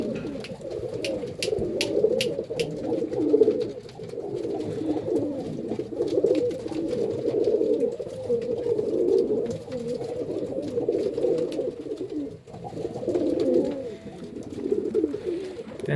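Pigeons coo steadily in a compact breeding setup, a dense continuous murmur of overlapping calls close by, with faint clicks and rustles above.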